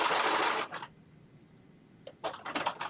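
A sewing machine stitches to the very end of a fabric edge for a top, with two short loud bursts of rapid stitching close by and a quiet pause between them.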